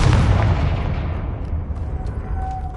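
A Confringo spell explodes in Hogwarts Legacy with a loud, sustained fiery boom that fades slowly over a few seconds, with no talk over it.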